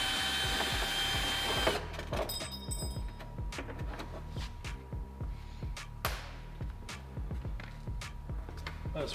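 A power driver works a Torx screw behind the fender of a Polaris vehicle: after a short burst of whirring, several sharp clicks and brief motor buzzes follow in an irregular rhythm, close and fairly loud.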